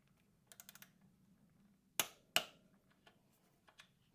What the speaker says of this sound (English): again with your torque wrench, 24 Newton meters, torque it up.